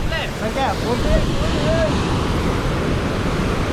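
Kannur Falls near Yellapur gives off a loud, continuous rush of falling water. Voices of a group of friends and some wind buffeting are mixed over the steady roar.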